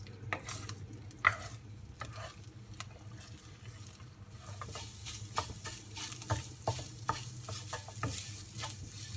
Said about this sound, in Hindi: ना इंगे वंदु रेंडु मुट्टैय अडिच्चिट्टु वच्चिरुक्केन अदै वंदु मोदल्ल फ्राई पण्णि एडुत्तु वच्चिक्कलाम